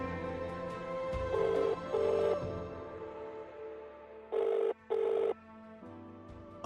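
A telephone rings at night, its bell sounding in two pairs of short bursts separated by a quiet gap over a low background, with no one speaking.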